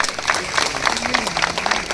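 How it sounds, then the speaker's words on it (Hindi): Applause breaks out from an audience at a crafts fair opening at Dilli Haat INA, dense clapping at a moderate level with a voice briefly heard beneath it. "तालियां थोड़ी और"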